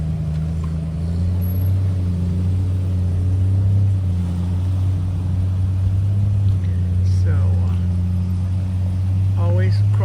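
Jeep idling and crawling through a creek crossing on an off-road trail, a steady low engine rumble throughout with a faint voice near the end.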